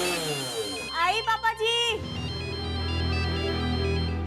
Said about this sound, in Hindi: तुम्हारा फोन बज रहा है।